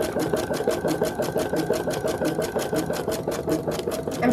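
A sewing machine stitches a sunflower wall hanging, its needle chattering in a fast, steady rhythm that runs loud and close for the whole stretch without pause.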